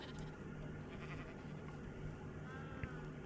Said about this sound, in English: There's one stray sheep out here.